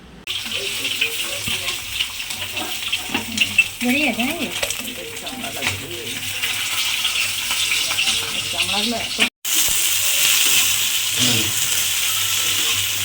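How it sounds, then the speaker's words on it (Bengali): Hilsa fish frying in oil in a home kitchen, giving a loud, continuous sizzle that runs through the whole stretch with one brief cut, with faint voices and kitchen clatter underneath. "ইলিশ মাছ ভাজা চলছে।"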